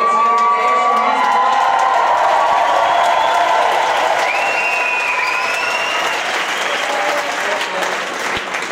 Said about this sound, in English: cheer if you're here to see anyone from Ayrshire